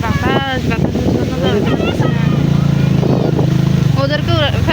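Strong wind blows over a flooded village in Pekua, Cox's Bazar, rumbling and buffeting the microphone in a steady roar while people talk loudly over it throughout.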